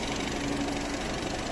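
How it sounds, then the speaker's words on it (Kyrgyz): A Skoda Octavia used as a taxi idles with its hood open, giving a faint, even engine hum with a light knocking texture and no voices. "Мына мотордун жүрүп турушу."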